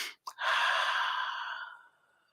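A person takes a deep breath, a short intake followed by a long, audible airy exhale that fades out, close to the microphone with no talk.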